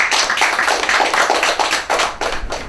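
A room full of people applauds a top exam candidate at a 2017 CSEC graduation awards ceremony, a steady dense patter of clapping hands that stays loud and close throughout, with no talking.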